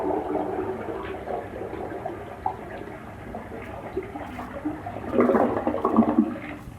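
A household toilet flushing with steady water rush and gurgle that swells louder near the end, heard alone without talk.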